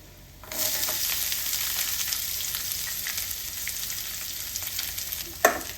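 Onions dropped into hot oil in a pan for aval upma start a sudden, loud, continuous sizzle that holds steady, ending with a sharp utensil knock.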